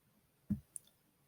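A single quiet computer mouse click, with a fainter tick just after, against near silence.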